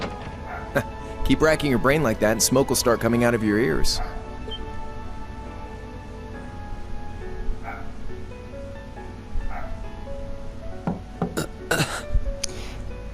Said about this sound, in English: it's my dog barking for some reason